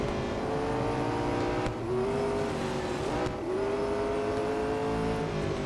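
A McLaren 650S GT3 race car engine screams in the Real Racing 3 mobile game, rising in pitch through the gears with two brief dips at upshifts, loud and continuous with no voices.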